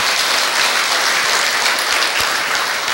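Steady, dense applause from an assembled congregation at a Korean Buddhist military chaplains' day ceremony, continuous and even throughout without talk over it.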